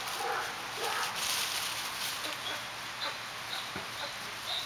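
White shepherd puppies give faint, high whimpers and short yips scattered through a continuous hiss of background noise, soft and somewhat distant, with no clear talking.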